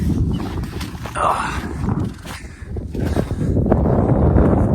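Strong wind at Red Lake, Ontario, ahead of a storm front, buffets the microphone with a constant low roar, while a voice briefly exclaims.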